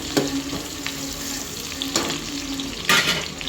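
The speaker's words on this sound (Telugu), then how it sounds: "ఇప్పుడైతే ఉల్లిపాయలు వేస్తున్నా. ఉల్లిపాయలు బాగా ఫ్రై అవ్వాలి" Onions frying in oil in a pan for pulao, a steady sizzle broken by a few sharp scraping stirs.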